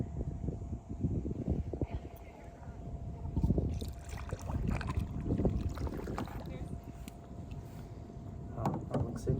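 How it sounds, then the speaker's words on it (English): A clear-bottom kayak is paddled through water near the Shell Key Islands, giving irregular close splashes and drips from the paddle strokes over rumbling wind noise on the microphone. "Kayaking our way to where?"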